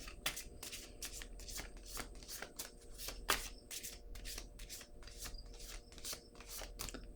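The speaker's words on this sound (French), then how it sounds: "Je vais piger une autre carte." Cards are drawn and shuffled from a deck in a quiet, close series of soft papery flicks and slides, irregular and faint, with no talking.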